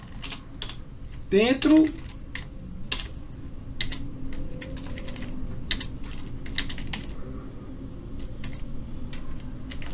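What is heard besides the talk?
typing on computer keyboard, pressing Enter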